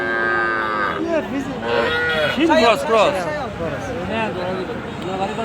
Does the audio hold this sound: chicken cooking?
no